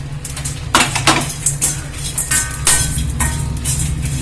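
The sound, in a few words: dried gooseberry dry-roasting with pepper and cumin in a pan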